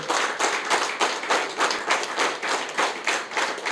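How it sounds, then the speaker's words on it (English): A crowd at a year-end staff award ceremony applauds, steady overlapping hand claps pulsing in a loose rhythm, full and close throughout, with no speech over the clapping. "give a big round of applause again"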